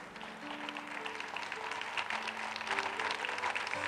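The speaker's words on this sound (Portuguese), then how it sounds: "as palmas louvem ao nosso Senhor." Church congregation applauding in praise of the Lord at a Restauração e Vida ministry service, a steady mid-level wash of clapping running throughout, with sustained musical keyboard tones underneath.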